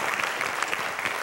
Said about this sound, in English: let's all give the Lord a big praise clap